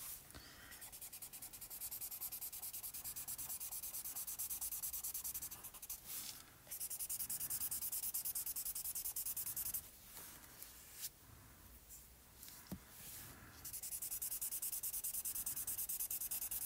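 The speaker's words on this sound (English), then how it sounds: "I'll go back in with the blue pencil and recolor it." Blue colored pencil rubbing across paper in steady back-and-forth strokes, close and soft, with brief pauses between bursts of coloring; no talking.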